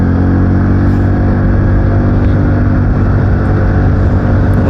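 A vehicle is driven fast in race mode along a road beside a canal. Its engine gives a loud, steady, close roar that runs through the whole stretch, mixed with a rush of wind.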